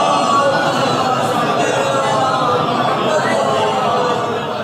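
A congregation at a majlis gathering answers a call for salawat, many voices chanting together in a loud, steady mass that gradually eases off near the end.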